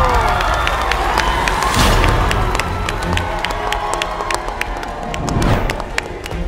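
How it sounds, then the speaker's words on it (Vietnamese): A studio audience at a Vietnamese TV game show cheers and applauds warmly, a dense, loud crowd roar with rapid clapping that surges midway and again near the end as a guest from Germany is welcomed. "Một tràng pháo tay nồng nhiệt cho một nhân vật đến từ đất nước Đức"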